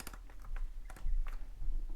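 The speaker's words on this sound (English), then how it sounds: "It kind of starts to give some clicks when it's starting to tighten down." Keyless chuck on a Hart HPDD02 cordless drill clicking as it is tightened by hand, a quick irregular series of sharp, close ratchet clicks with no talking.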